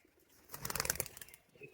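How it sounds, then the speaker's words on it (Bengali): Giribaz pigeons released into the air, a short burst of rapid wing flapping close by, fading quickly. "এই পায়রাগুলো উপরে ছাড়ো দেখি"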